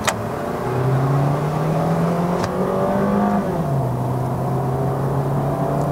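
A 2012 Toyota Corolla Altis 1.6E (E140) with automatic transmission accelerates hard in drive on a Malaysian road toward Genting, its engine note climbing steadily, dipping briefly at a gear change, then rising again, heard from inside the cabin.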